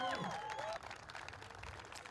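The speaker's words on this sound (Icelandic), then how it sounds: "Vel fagnað af áhorfendum Theodór." Audience applause for a weightlifter after a successful press lift, a burst of clapping and some cheering that drops off after the first second into quieter crowd noise, fairly faint overall.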